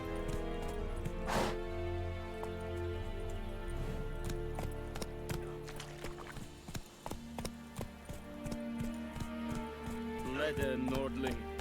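The horse Roach gallops in The Witcher 3, with steady clip-clop hoofbeats on ground and a voice speaking briefly over the running rhythm.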